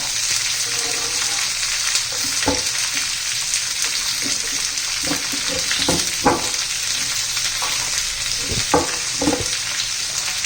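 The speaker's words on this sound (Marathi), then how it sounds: "कांदाचा आपण तेलामध्ये परतून घेऊया" Onion and bell pepper with crushed ginger and garlic frying in oil for a dry capsicum stir-fry: a loud, steady sizzle with intermittent scrapes and stirring clatter from the pan, no talking.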